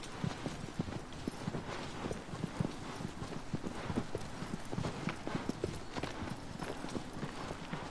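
Horse hooves clip-clop in a steady, quick rhythm while riding on horseback in Shadow of the Colossus, moderately loud and continuous throughout.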